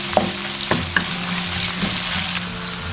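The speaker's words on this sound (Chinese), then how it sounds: "下入所有料头炒香" Sizzling and stir-frying of Sichuan cured pork (larou) with lean meat and aromatics in hot oil, a steady close sizzle broken by a few sharp spatula scrapes and clanks, with no talk.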